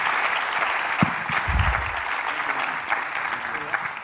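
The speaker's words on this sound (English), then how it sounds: "Could you please give a round of applause to our panel," A conference audience at the Walk21 Hong Kong Conference gives a keynote panel a round of applause: steady, dense clapping that fills the room throughout, with a few louder claps standing out near the start.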